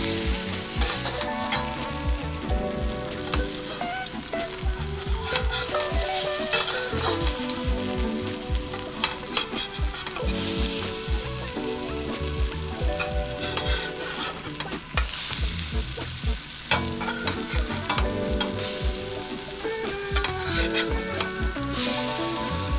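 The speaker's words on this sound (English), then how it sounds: "you want to sear it for maybe 3 to 4 minutes on each side, get a nice dark crust" Falafel patties searing in a hot pan give a steady, close sizzle and crackle that runs unbroken throughout, with no one speaking.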